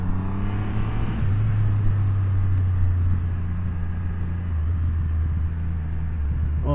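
A 2020 Triumph Rocket 3 GT motorcycle engine pulls under light throttle while riding, a deep, loud, steady drone that rises slightly in pitch as it accelerates, heard up close with wind behind it.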